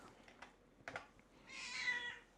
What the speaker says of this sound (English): there's my sugar cat. She thinks it's dinner time